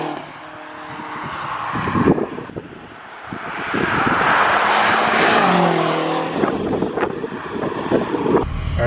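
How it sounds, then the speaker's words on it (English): A BMW X5M SUV with a twin-turbo V8 accelerates and drives, its engine rising and falling through gear changes under heavy wind rush, loud and close without any talking. "This is what differentiates the car from a normal X5, is that unbelievable V8 twin turbo. Just a beast."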